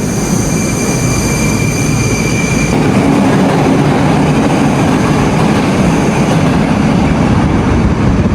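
A Moscow underground metro train pulls out of the station, a loud steady rumble with rail clatter and a high whine that cuts off partway through, then a broad roar filling the whole stretch.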